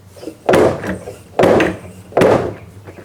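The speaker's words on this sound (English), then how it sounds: "I don't want to keep slamming the crap out of my trunk door here" A Honda Civic EG hatchback trunk door is slammed shut three times in a row, each slam a loud, close thud at roughly one-second intervals.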